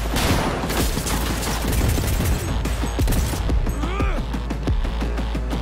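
Rapid gunfire from a gun in the video game Cyberpunk 2077, dense bursts of close, loud shots continuing throughout with crashing impacts and a whooshing sweep midway.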